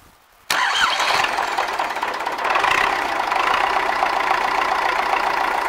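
An MTZ-80 tractor engine cranks and fires after quiet, then settles into a loud, steady diesel idle with a knocking, rattling rhythm close by.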